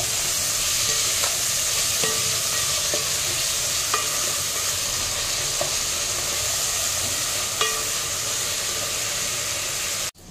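Ginger and radhuni paste sautéing in a pan for Bengali bhoger khichuri, a steady close sizzle with occasional soft clicks of a spoon scraping the pan, alone and continuous until it cuts off abruptly at the end.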